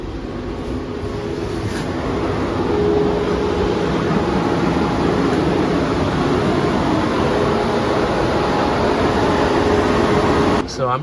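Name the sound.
Tesla cooling fan running during battery health test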